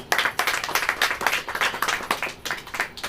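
A church congregation clapping hands together, bursts of many-handed rhythmic claps in quick succession, close and fairly loud, with no talk over them.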